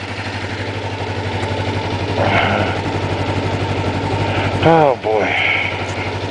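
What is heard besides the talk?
motorcycle engine starting and idling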